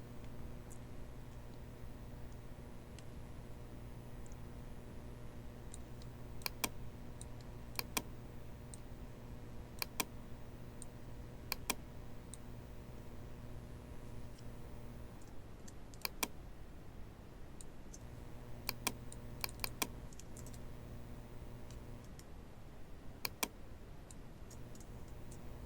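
Sparse keyboard taps and mouse clicks come in small clusters while working in Photoshop, crisp and close over a steady low electrical hum, with long quiet gaps between them.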